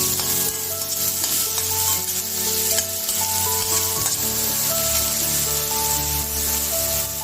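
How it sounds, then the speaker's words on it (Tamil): Chopped ridge gourd sizzles and crackles continuously in hot oil in a pan, loud and close, with occasional scrapes of a stirring spoon and no voices. "பீர்க்கங்காய் போட்டு நல்லா வதக்கணும்."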